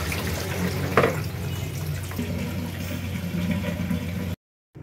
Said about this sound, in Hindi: अभी मैं चावलों को पानी गिराती हूँ।